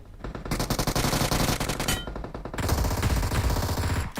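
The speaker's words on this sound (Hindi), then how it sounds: "बगल से कोई यूएमपी चला रहा था" Rapid bursts of UMP submachine gun fire in the video game BGMI, loud and continuous, with a short pause midway before the firing resumes.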